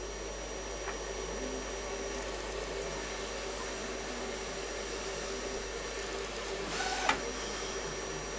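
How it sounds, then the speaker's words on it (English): A steady mechanical whir of a Canon SX600FW inkjet printer charging ink during setup, with a brief louder clatter near the end. "It's still charging the ink up actually, so it is quite a slow setup, this printer"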